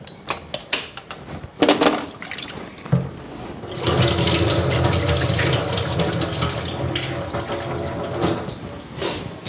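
Water runs steadily from a kitchen tap to fill a vessel for tea, starting after a few clinks and clatters of dishes and continuing as a close, even rush.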